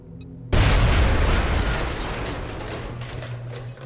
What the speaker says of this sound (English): So I'm going to see if I can't smoke them out with a grenade.